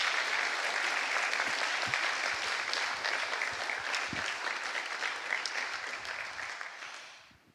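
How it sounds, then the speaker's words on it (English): Sustained applause from a conference audience thanking the speakers at GUADEC, a dense steady wash of many hands clapping that fades out at the end. "So big applause for all the speakers first."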